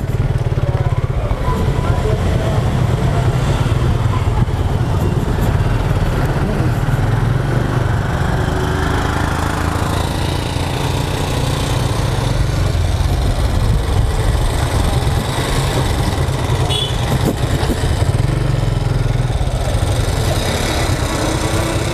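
Motorcycle riding along Marine Drive, its engine a steady, loud low drone for the whole stretch with wind rush, while people talk intermittently over it.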